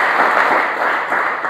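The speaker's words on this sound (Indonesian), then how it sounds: "Beri dulu tepuk tangan yang terbaik buat Tuhan Yesus." A church congregation at an Indonesian sermon gives loud, sustained applause for Jesus, a thick, unbroken wash of many clapping hands close by.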